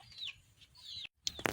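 A nine-month-old gamecock rooster clucks in short, bright bursts close by, with a brief pause before a few sharper calls near the end.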